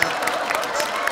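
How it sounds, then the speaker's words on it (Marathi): A studio audience at a Marathi comedy show claps and murmurs in a brief burst of crowd applause, with scattered sharper claps over a busy background. "टाळ्या वाजवा जरा"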